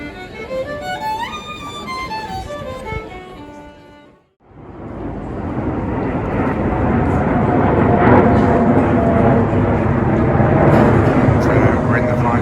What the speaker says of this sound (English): there's a plane going past every 5 minutes.